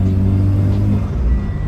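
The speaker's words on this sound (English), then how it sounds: "God, I love the boost noise." A rotary-swapped Subaru BRZ rumbles loudly and steadily under turbo boost, a deep droning engine tone with a faint whistle riding on top, close and continuous.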